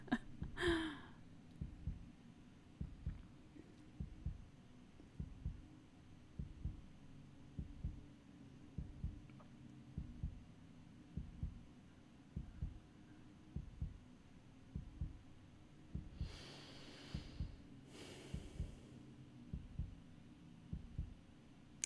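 Slow, steady heartbeat thumps from Resident Evil 3, repeating evenly at close range over a low hum, with a couple of brief hissy bursts late on.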